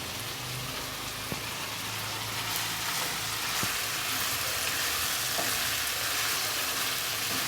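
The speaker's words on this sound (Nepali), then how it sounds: "यसलाई चाहिँ मजाले भुट्नुपर्छ" Local chicken meat fries in a pan for chicken curry, a loud, constant rain-like crackle with a few sharp stirring taps and no voices.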